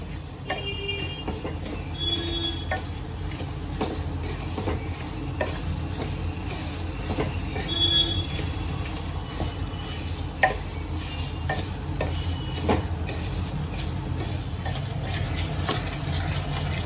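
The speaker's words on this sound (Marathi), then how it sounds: "लापसीला पण चांगलं तुपामध्ये भाजून घेते." Lapsi (broken wheat) roasting in ghee in a pan, stirred steadily, giving a continuous sizzle with dense scraping strokes throughout at an even, fairly loud level.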